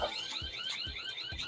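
A house alarm blares outdoors, a steady wavering electronic siren with a low thump about every half second running under it for the whole stretch.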